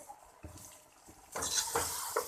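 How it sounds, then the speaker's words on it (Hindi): Spices, Sindhi biryani masala and meat roast in a pot, starting with quiet stirring scrapes before a louder sizzle builds in the last second, with a few spoon knocks. "और इसके साथ ज़रा करेंगे ज़बरदस्ती भुनाई।"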